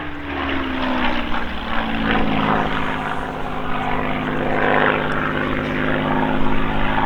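A B-17 Flying Fortress, a four-engine propeller bomber displayed at Old Buckenham Airshow, roars loudly overhead with a steady droning engine hum and a slowly falling pitch, and no voices are heard.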